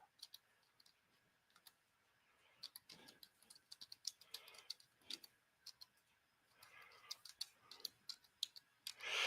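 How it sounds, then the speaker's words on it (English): Quick, irregular clicking of computer keyboard keys in bursts, close and fairly quiet, with short pauses between runs of keystrokes. "I'm typing a little faster"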